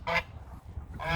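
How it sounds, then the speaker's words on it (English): A farmyard goose honks twice, close by: two short, nasal, brassy calls separated by a brief pause filled with soft background rustle. "Hi, Goosey. How you been, Goosey"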